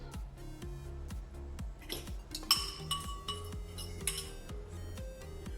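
A leek, carrot, pasta and mushroom filling is tipped into a tart base, giving soft clinks and scrapes of a utensil against a dish, set under steady background music with a thumping beat.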